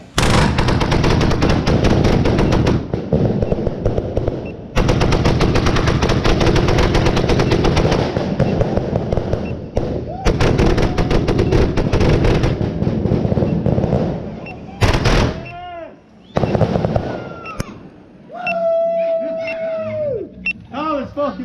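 Bonfire Night fireworks barrage, a long rapid crackling volley of loud bangs like gunfire, followed by whistling and screaming rockets with gliding tones, close and dominating with brief gaps between bursts.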